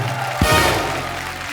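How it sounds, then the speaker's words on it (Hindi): Studio audience of The Kapil Sharma Show breaking into applause for a guest, a dense clapping wash that rises suddenly partway through and carries on steadily, with a low thump as it begins. "जोरदार तालियां एक बार ऋषि सर के लिए।"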